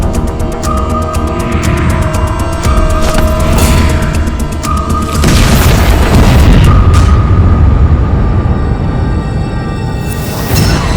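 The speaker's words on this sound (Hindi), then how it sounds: "धमाका" A deep explosive boom bursts out loud and rolls on as a heavy rumbling throb, with a second surge of blast noise partway through, all close and overpowering with no talking.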